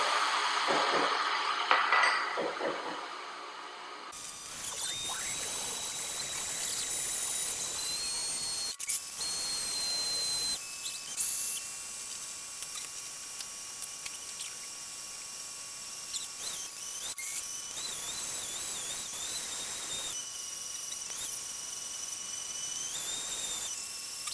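A blender grinds rice for gluten-free bread, starting abruptly after a few seconds into a loud, steady whining roar with shifting high-pitched tones that runs on to the end.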